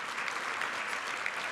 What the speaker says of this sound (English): Yes, you can give her many rounds of applause.